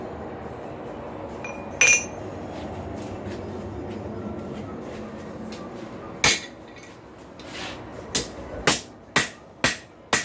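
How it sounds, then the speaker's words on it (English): A hammer strikes a chisel to cut a notch in a hot rail spike on an anvil fitted with a soft cutting plate: isolated metallic clinks at first, then a quickening run of five or six sharp ringing blows. "Chisel cuts a wide notch."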